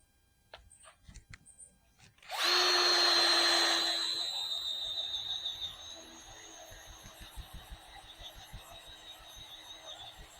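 After soft rustling, a drill fitted with an auger bit starts abruptly and runs loud, then settles into a lower grinding whir as it bores into garden soil for a periwinkle planting, with faint ticking scrapes continuing afterward.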